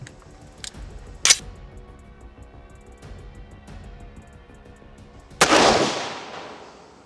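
A custom-built rifle fires a single sharp, loud shot near the end, with a short ringing tail, after some quieter clicks and handling noises from the gun.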